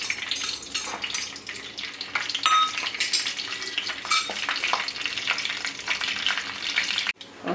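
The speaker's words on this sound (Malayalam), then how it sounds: "കടുക് ഉലുവയൊക്കെ പൊട്ടി വന്നിട്ടുണ്ട്." Mustard and fenugreek seeds splutter and crackle in a hot pan, a dense steady sizzle with sharp popping bursts throughout, close and fairly loud, cutting off briefly near the end.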